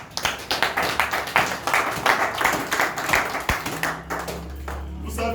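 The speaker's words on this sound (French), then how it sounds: "Applaudissons d'abord pour notre président national." Audience clapping at a political training gathering in Goma, dense steady applause for the national president, loud and close, fading at the end as a low hum takes over.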